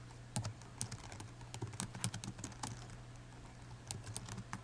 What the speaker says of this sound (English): We're going to go ahead and do some more typing here.